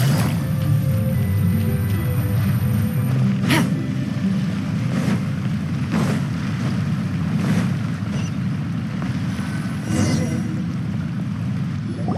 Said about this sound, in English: Are the waves here always like this?